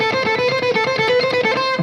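A distorted electric guitar picks a quick repeating six-note pattern, the notes evenly spaced and driving, played alone.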